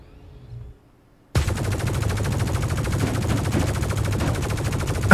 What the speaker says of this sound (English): Time to test this gun.